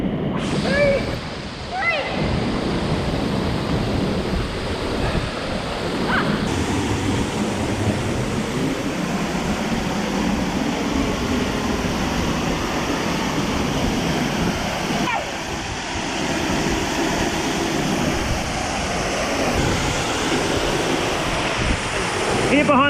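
Millaa Millaa Falls roars as a loud, steady, broadband rush, with spray blowing hard against the microphone behind the falling water. Voices speak now and then over the constant noise.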